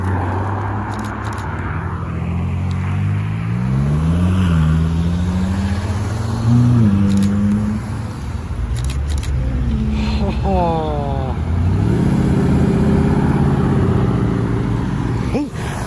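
Several hypercars, among them an orange GTR and a CLK Black Series, roll into a car meet one after another with loud engine rumble and revving that rises and falls as each passes close by.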